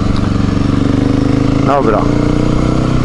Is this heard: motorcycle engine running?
yes